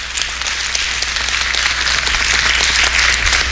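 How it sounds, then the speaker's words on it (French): Steady audience applause fills the hall after a federal election debate in Bécancour-Nicolet-Saurel, dense, continuous clapping from a crowd that holds at an even level throughout with no talking over it. "Je pense qu'on peut les applaudir."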